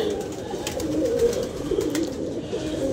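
Pigeons in a loft coo in low, soft, repeated calls, close and steady over a constant hum of background noise.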